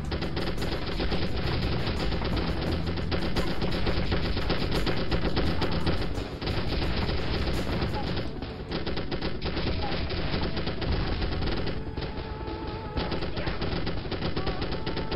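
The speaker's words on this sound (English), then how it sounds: "The gun started to blast away here," Gunfire and grenade launcher blasts from the 1998 video game M.I.A. Missing in Action keep up a loud, dense, continuous barrage with no clear breaks, mixed with other game sounds.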